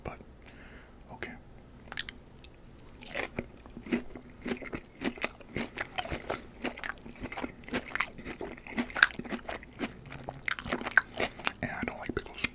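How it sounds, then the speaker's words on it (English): Someone bites and chews a Dave's hot chicken nugget close to the mic, crisp crunching and wet chewing repeating steadily, with faint whispery breaths between bites. "And a bite."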